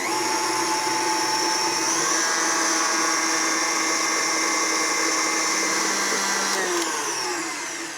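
A stand mixer whirs steadily and loudly as it mixes vanilla into pumpkin puree for a pumpkin spice cake roll batter, a continuous motor drone that dips slightly near the end.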